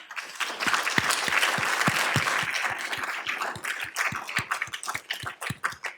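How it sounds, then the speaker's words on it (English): A conference audience applauds, dense clapping at first that thins into scattered individual claps toward the end. "we need to give them a round of applause"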